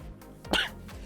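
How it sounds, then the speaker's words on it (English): A single short, explosive sneeze bursts out once from a person close to the mic, with quiet room tone before and after. "I'm just going to sneeze and apologize."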